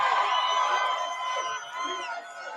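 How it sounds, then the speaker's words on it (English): A large crowd at a Georgia political rally cheers and shouts loudly and continuously, a dense roar of many voices with whoops rising and falling throughout. "What a crowd this is."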